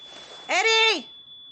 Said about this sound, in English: Smoke has entered your photoelectric smoke detector.